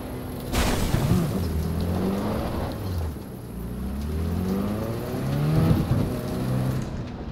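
Car engine in the video game Cyberpunk 2077 as a vehicle drives and pulls in to park beside a rocky outcrop, a steady engine drone with rising revs in the middle and near the end, loud and close throughout.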